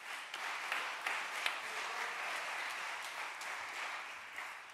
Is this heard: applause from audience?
yes